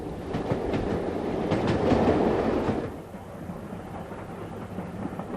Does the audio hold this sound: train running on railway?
yes